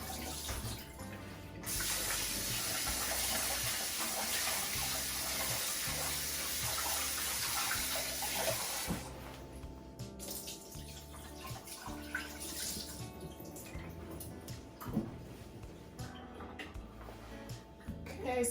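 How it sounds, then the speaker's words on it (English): Rice being rinsed under a running kitchen tap, a steady gush of water splashing into a pot or bowl that later drops to a softer trickle with light swishing and clinks. "I'm going to be washing the rice to remove the starch from the rice."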